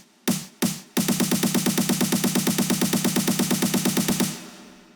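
Snare build-up programmed in FL Studio 20 with automated reverb wet level rising to around 75–80%: two single hits, then a fast even roll of loud close snare strikes for about three seconds, ending in a fading reverb tail.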